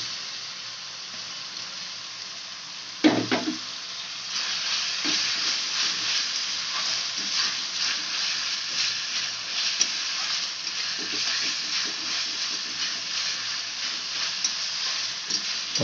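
Chopped tomato fries in a spice masala with ginger and garlic for a pomfret curry, a steady loud sizzle with a sharp burst as the tomato goes in and occasional stirring scrapes.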